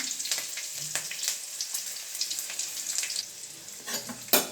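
Mustard seeds, fennel and green chili fry in hot oil in a pan, giving a steady close crackling sizzle with small pops, ending in one sharp louder burst.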